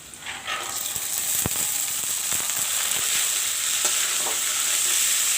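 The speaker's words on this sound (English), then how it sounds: "Fry the chana nicely." Soaked chana (chickpeas) fry in a pan after browned onions, giving a loud, continuous sizzle with sharp scraping strokes as they are stirred.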